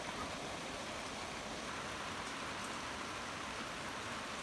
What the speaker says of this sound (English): Listen to the rhythm of the falling rain.